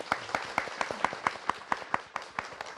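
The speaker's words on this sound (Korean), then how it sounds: "박수 한번 주세요" Studio audience on a Korean talk-lecture show gives a short round of applause, a few people clapping in a steady, moderately quiet patter with no one speaking over it.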